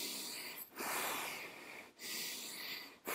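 A slow, drawn-out nasal inhalation repeats three times, each long hissy breath broken by brief pauses, close and fairly quiet, as in paddle-training breathing for surfing.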